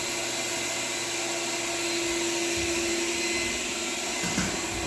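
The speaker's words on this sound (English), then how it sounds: "I'm gonna use that vacuum right there, vacuum up all the little dust on the floor" Vacuum cleaner cleaning dust off an old wood floor being refinished, a loud, steady whining drone close by, its pitch shifting partway through, with no talk.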